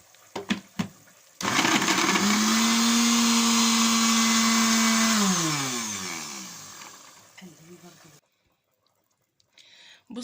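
An electric mincer grinds chicken: a few handling clicks, then a loud, steady motor whine that holds for several seconds, winds down in falling pitch and stops, followed by quiet and a few faint knocks.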